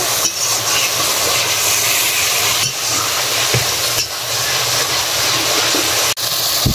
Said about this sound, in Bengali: ভালো করে নেড়ে চেড়ে মশলাগুলো আমি কষিয়ে নেব।